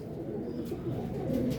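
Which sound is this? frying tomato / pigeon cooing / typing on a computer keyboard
pigeon cooing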